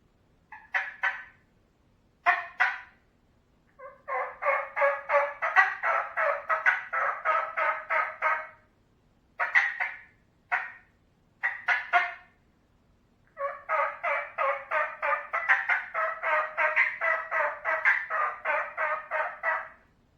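A turkey call imitates an excited hen during the mid-season mating period: quick opening cuts give way to long, rapid runs of raspy yelps, then a few more sharp cuts and another long yelp run, close and loud with no talking.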